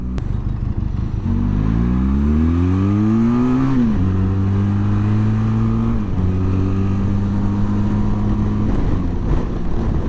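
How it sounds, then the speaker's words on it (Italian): Benelli TRK 502X Euro 5 twin-cylinder motorcycle accelerating hard through the gears, engine pitch sweeping upward, then a gear change, then another long rising pull, loud and close under wind noise. "Proviamo subito un allungo, vediamo come va il bicilindrico."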